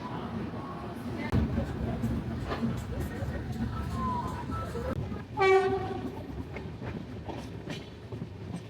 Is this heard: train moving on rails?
yes